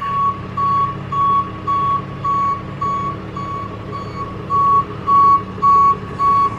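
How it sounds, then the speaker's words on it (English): A tow truck backing into a residential driveway, its reversing alarm sounding a steady run of loud, evenly spaced beeps with a brief pause midway, engine rumbling low underneath. "He's gonna back it in the driveway."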